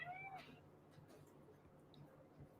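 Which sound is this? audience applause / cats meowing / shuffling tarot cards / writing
cats meowing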